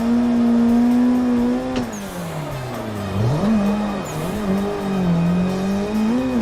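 A drifting car in a racing video game on the Irohazaka mountain road, engine revving hard with a steady high note that dips and rises as the driver brakes and rotates through a corner, loud and close with no voices.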